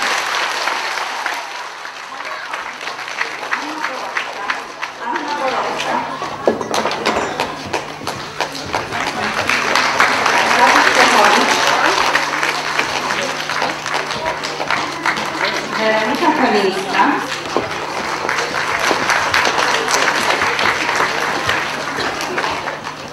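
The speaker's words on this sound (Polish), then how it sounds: "Wielkie, ogromne brawa nie tylko dla aktorów" Prolonged audience applause after a children's school theatre performance of Snow White, many hands clapping steadily for over twenty seconds, rising to a louder swell midway and continuing strongly, with a low hum underneath.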